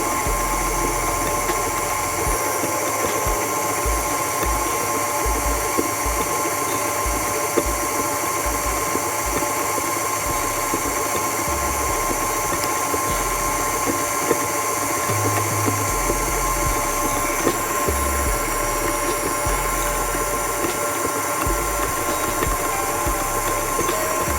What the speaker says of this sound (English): turn the speed up to about medium, which is 4 on a KitchenAid's artisan mixer